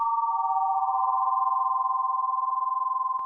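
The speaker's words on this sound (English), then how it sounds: "I'm going to stick to sine waves" A synthesizer holds a pure sine wave tone used while building a pad sound, one steady, smooth pitch sustained for several seconds with a slight pulsing shimmer and nothing else.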